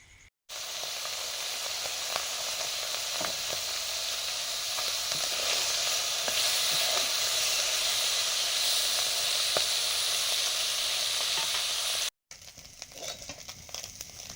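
Fish frying in mustard oil, a steady close sizzle with bubbling hiss that runs nearly unbroken for about twelve seconds, then cuts off before a short quieter stretch of kitchen sound.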